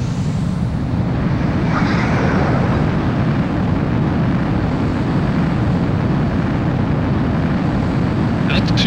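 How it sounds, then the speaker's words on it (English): Fighter jet roaring on takeoff in Ace Combat 04: Shattered Skies, a loud, steady, broadband engine rush that holds for the whole stretch, with faint radio voice chatter beneath it. "Mobius One, you are cleared for takeoff."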